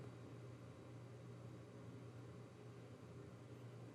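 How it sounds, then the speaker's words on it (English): A basement furnace runs steadily, a quiet continuous low hum with a broadband airy rush that holds unchanged throughout, with no voices over it. "Right now I'm in my basement and the furnace just came on"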